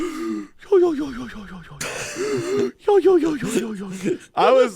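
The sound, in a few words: imitated heavy breathing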